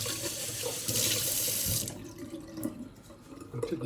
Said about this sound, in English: I'll tip the juice into a nice cup here.